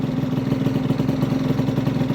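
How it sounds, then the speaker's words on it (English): Honda Vision scooter engine idling steadily at around 1500 rpm after choke adjustment, a close, loud, even putter with a regular pulsing beat and no voices. "and it's idling perfectly"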